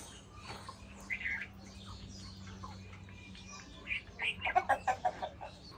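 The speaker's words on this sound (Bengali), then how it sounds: "ম্যাঙ্গো ছাদে আসার জন্য চিলাচিলি করতেছে" A pet bird calls from a rooftop. Scattered chirps are followed by a rapid series of loud, repeated calls near the end, over faint background hum, with no clear talking.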